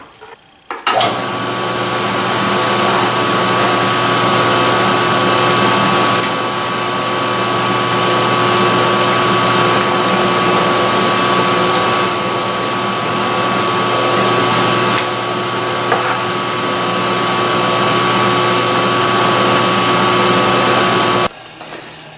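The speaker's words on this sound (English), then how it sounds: "now I can use a smaller bit and drill a pilot hole in those" A power drill with a small bit drills a pilot hole, running continuously at a steady whine for about twenty seconds, loud and close, starting and stopping abruptly with no voices.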